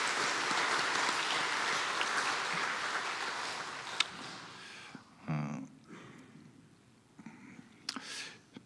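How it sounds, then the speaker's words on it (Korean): Church congregation applauding during a Sunday worship service, a broad wash of clapping for about four seconds that then thins out, followed by a quieter room with scattered small noises. "우리 모두 참 잘했다고 우리 격려의 박수, 응원의 박수 하시겠습니다."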